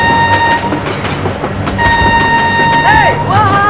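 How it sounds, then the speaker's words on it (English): A train rumbles past in the BeamNG.Drive driving game, its loud steady horn blaring through rolling rail noise, with excited voices and shouts mixed in. "Oh my god, train!"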